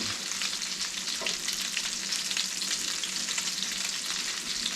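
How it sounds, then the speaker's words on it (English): Steady, loud sizzling of Swedish meatballs frying in a hot pan, a continuous crackling hiss with no talk. "basking to the smell and sound of frying meat"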